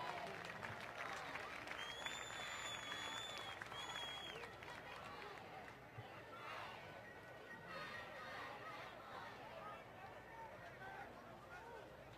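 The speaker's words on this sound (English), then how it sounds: "How about a round of applause?" Spectators at a high school football stadium applaud an injured player during the game. The clapping is broad, distant and crowd-wide, a steady wash of applause mixed with cheering and background chatter, with faint whistle-like tones early on.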